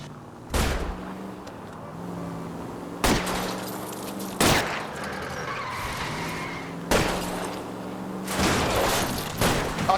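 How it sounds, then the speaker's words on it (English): In the L.A. Noire video game, several loud, sharp gunshots ring out over a steady car engine drone during a chase, spaced a few seconds apart as tires are targeted. "I'll try to shoot out his tires"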